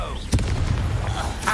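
A Confringo fire spell blast in Hogwarts Legacy, a sudden booming burst followed by a rumbling, crackling tail over a brief moment.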